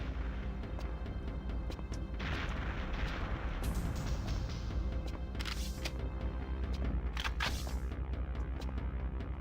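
Missile explosions burst in a Perfect Dark match: several booming blasts a few seconds apart over a constant dense rumble, with no talking.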